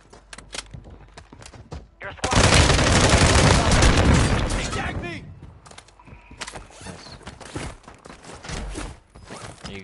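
Gunfire in Warzone: scattered single shots and clicks open, then a loud, sustained burst of rapid automatic fire for about three seconds, fading into sporadic shots and footsteps, with voices talking over the action.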